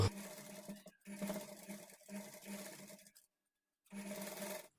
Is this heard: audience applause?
no